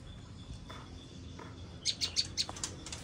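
Birds in an aviary give a quick cluster of sharp, bright chirps near the end, preceded by faint scattered calls over a quiet background.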